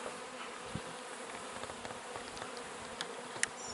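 Honey bees hum steadily around queen cell bars during Nicot queen rearing, a dense continuous buzz close by with a few faint clicks and knocks from handling the frames.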